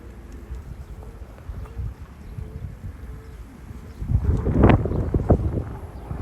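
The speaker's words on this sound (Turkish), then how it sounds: "Rüzgarı da fark ediyorsunuz herhalde." Wind buffets the microphone in low rumbling gusts, growing stronger and louder toward the end.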